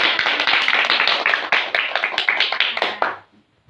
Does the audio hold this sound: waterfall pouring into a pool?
no